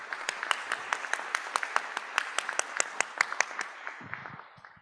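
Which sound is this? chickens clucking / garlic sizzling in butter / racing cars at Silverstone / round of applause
round of applause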